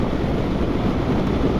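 Strong wind roaring past a motorcycle rider wearing an Aero Commander peaked helmet, a loud, steady broadband rush with no break and no talk.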